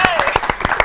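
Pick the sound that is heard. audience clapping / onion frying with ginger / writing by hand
audience clapping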